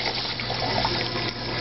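Water pours into the boiler of an ECM Giotto espresso machine through an all-brass float valve, a steady close running-water rush like a filling tap, alone and without voices.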